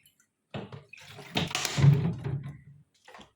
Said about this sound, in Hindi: ऐसे वाटर डाल दूंगी